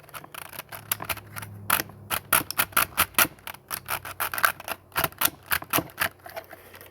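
Ratcheted hip joints on a Transformers Titans Return Leader Blaster toy click in quick, sharp, close-up bursts, a long irregular run of crisp ratchet clicks with nobody speaking.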